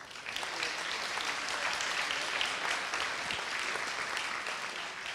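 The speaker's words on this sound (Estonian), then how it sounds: "kõik selles debatis osalejad on ära teeninud ühe väga-väga kõva aplausi" Debate participants on an environment minister candidates' panel receive a long, dense wash of audience applause, steady and even, heard from a little distance with no talk over it.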